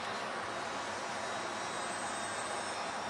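A foam profile RC model plane flying in calm air, a steady broadband airborne whine and rush that holds continuously and fairly close throughout with no talking.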